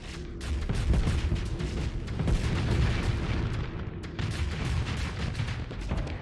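Heavy, rumbling bursts of plasma cannon fire in a video game repeat in quick succession, loud and continuous, with booming impacts layered over each other.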